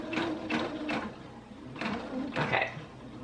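A sewing machine stitching fabric for a Christmas tree skirt, running in short rhythmic bursts with brief pauses, close and moderately loud, while a person talks over it.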